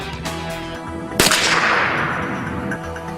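A single sharp .22 gunshot fired at bullet-resistant material, loud and close, with a long fading ring over steady background noise.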